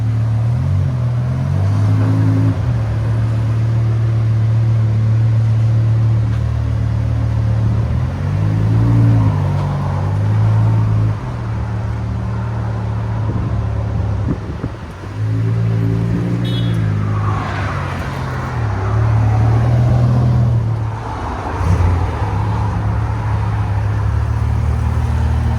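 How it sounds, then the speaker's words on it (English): A BMW M5 with a 5.0L V10 and straight pipes revs repeatedly up and down, a loud, close, raspy roar with rising and falling bursts and no talking. "BMW M5 straight pipe."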